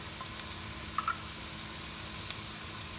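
Chopped garlic hitting a hot pan of sautéed ingredients for Indian-style dirty rice, giving a steady close sizzle with a couple of small pops as it goes in.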